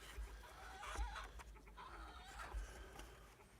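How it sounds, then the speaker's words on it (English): A rooster crows faintly alongside distant voices at an animal sanctuary temple, its brief rising calls blending with low background murmur and clucking over a few seconds. "That's Ray kind of crowing there along with us"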